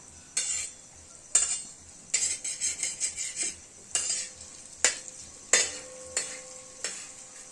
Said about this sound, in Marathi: मी तव्यावरती थोडंसं तेल टाकून तळून घेत आहे